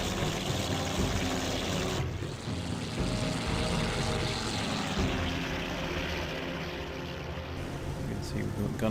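A Ki-100 propeller fighter in the IL-2 1946 combat flight game climbs with jammed flaps, its engine giving a loud, continuous droning roar that stays steady throughout.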